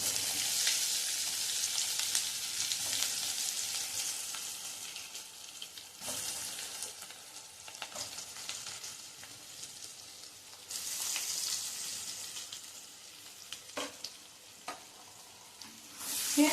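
Stuffed ridge gourd frying in spiced oil with asafoetida and turmeric, a steady loud sizzle with occasional stirring scrapes and crackling spikes, no talk.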